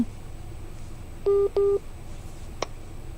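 Telephone keypad tones dial out for another call on a live prayer phone-in broadcast: two steady beeps in quick succession, then a short click, over a low background hum.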